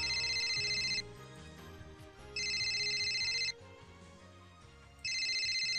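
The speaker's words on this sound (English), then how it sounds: "I'm pressing C to try and answer the phone." A ringtone in the video game Steins;Gate rings in bright electronic bursts, three separate stretches separated by short gaps, over quiet background game music.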